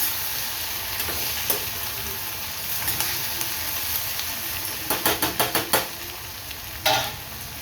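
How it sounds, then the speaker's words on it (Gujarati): Chopped tomatoes fry in hot oil for a vegetable pulao, giving a steady close sizzle and hiss with a quick run of spoon clicks and scrapes against the pan. "ત્યારબાદ એમાં મેં ટામેટાં પણ મોટા મોટા કાપ્યા છે. ટામેટાં પણ તમે અંદર નાખી દો."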